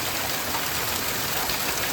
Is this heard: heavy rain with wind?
yes